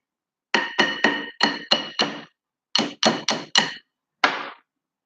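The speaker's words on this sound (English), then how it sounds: "Just tap it lightly." A small hammer taps metal in quick light strikes on a 1985 Bolens Iseki tractor's hydraulic piston, two bursts of four or five ringing taps, then one final tap, close and crisp.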